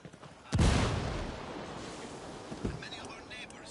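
A frag grenade explodes in Ghost Recon Wildlands with a sudden heavy boom and a long rumbling decay, followed by a smaller second thump, with faint voices around it.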